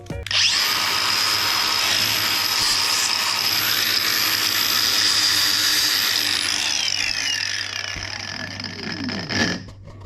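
An electric grinder cuts metal during rooftop tent mount work. A loud, sustained high whine spins up sharply, holds steady for several seconds and then winds down near the end.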